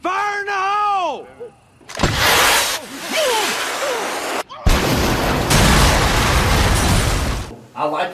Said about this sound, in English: It's going to blow this coal out and down where I do this undercutting.